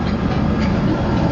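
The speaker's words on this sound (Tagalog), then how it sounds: "Nasa loob kami na MRT" Steady, loud rumble inside a moving MRT train in Manila, a dense broadband roar of wheels and carriage noise with no breaks and no talk.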